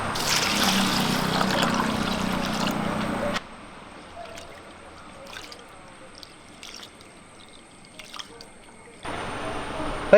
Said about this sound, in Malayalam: ഇത് വെള്ളം ഒഴിച്ച് ഒന്ന് കുതിരാൻ വെക്കാം